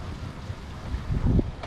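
Wind gusting over a sailboat heeling at sea in about 15 knots, a steady low roar of wind noise with water rushing, swelling louder toward the end.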